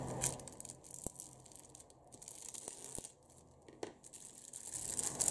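A plastic bag holding parts for a 1/35 scale Academy Pz.Kpfw. 35(t) model kit is opened, giving quiet intermittent crinkles and rustles with a few sharp crackles.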